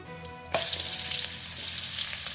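Shallots drop into hot oil in a pan for sambal, a quiet moment giving way at about half a second to a steady, close, loud sizzle that holds to the end with no talking.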